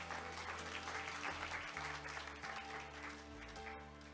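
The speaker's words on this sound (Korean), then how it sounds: "박수 보내주시기 바랍니다" An audience at Hanyang Cyber University's 2022 Leaders Forum on online education gives a short, even round of applause, moderately loud, over a low electrical hum in the hall.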